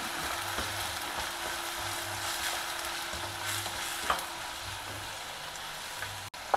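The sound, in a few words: onions and tomato stir frying in a pan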